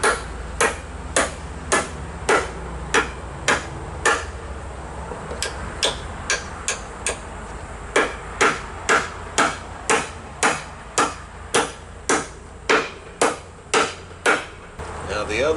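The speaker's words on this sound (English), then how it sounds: "Now the other two nails I'm going to try to drive right into here." A hammer drives nails into wooden boards while building saw horses, striking about thirty times in steady, evenly spaced sharp knocks, close and loud, with brief pauses between runs.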